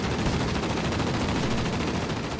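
Dense, continuous rapid gunfire rattles without pause from aircraft machine guns firing at planes in World of Warplanes, a steady loud stream with no voices over it.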